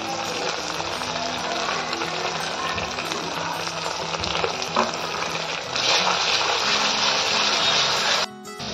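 Ground spices fry in oil in a pan over low gas, a steady close sizzle and crackle that swells louder toward the end before cutting off.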